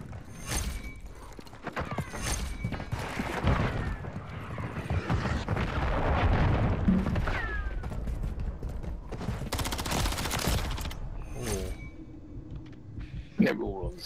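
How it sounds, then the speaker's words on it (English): Cruise missile strike and automatic gunfire in a Rival-9 ranked shooter match, dense bursts of shots and blasts running throughout with loud explosive peaks near the end, under a player's voice. "I've got a cruise missile in there"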